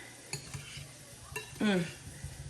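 Potatoes stirred in a pan with melting butter while a quarter pounder with cheese is being made, with a few scraping clinks and a brief louder scrape near the end over a soft background sizzle.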